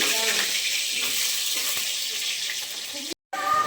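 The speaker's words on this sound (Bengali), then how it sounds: "এবার আমি আলুগুলোকে ফ্রাই করে নেব" Boiled potatoes fry in oil for biryani, giving a steady close hiss under a faint voice, cut by a brief moment of silence near the end.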